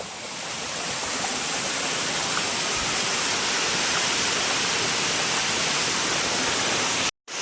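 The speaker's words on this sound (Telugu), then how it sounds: "వాటర్ ఫాల్స్కి దగ్గరకు వచ్చేసినాం మనమైతే" Steady, dense rush of falling water from a nearby waterfall in the Nallamala forest fills the whole clip, broad and continuous, cutting out briefly near the end.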